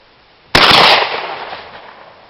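A single rifle shot at outdoor target practice on a highland plateau, a sharp loud crack at close range that decays into a long rolling echo, with no talk over it.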